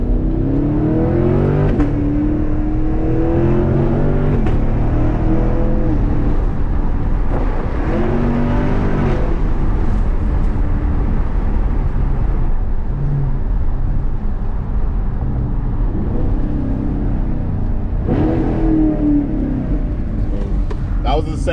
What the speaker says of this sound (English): That was the second to first downshift.